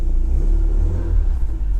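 A Toyota MR2 Turbo rumbles loud and close from inside while driving, its engine holding a deep, steady drone with a slight rise in revs and no voices over it.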